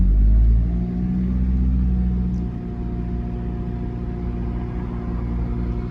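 A car engine revs up toward 2000 RPM, starting with a loud low rumble that eases into a steady mid-pitched drone with a faint whine, close and continuous with no talking.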